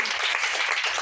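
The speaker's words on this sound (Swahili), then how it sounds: "Pigeni makofi" A church congregation claps during a testimony, a dense, steady patter of many hands lasting about a second, close and fairly loud with no speech over it.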